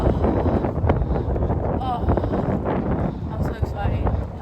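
Strong wind gusts roar steadily across the microphone outdoors late at night in Orlando, Florida, with people talking over the buffeting throughout.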